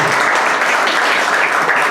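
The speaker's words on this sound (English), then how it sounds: "Give yourselves a round of applause for coming out and supporting live comedy." A comedy club audience at The Tampa Funny Bone bursts into dense, loud, sustained applause, a steady roar of many hands clapping with no gaps.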